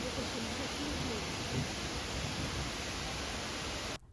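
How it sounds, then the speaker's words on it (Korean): Shifen Waterfall in Taiwan roars in a dense, steady wash of falling water that fills the whole clip before cutting off abruptly near the end. "스펀 폭포입니다."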